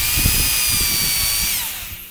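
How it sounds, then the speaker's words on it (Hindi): A power drill whines steadily at high speed while boring holes in wood for a pigeon breeding cage, loud and close, then starts to spin down toward the end without any talking. "हम लगाने लगे हैं सुराख ड्रिल के साथ"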